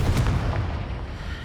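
Confringo fire spell blasting in Hogwarts Legacy, a loud booming burst with rumbling low-end impact that rolls on and decays over a second or so.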